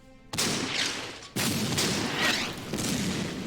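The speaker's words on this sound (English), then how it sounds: "Fire some artillery here." Artillery fire in the strategy game Order of Battle: Endsieg: two sharp, heavy booms about a second apart, each followed by a long rumbling decay, loud and near.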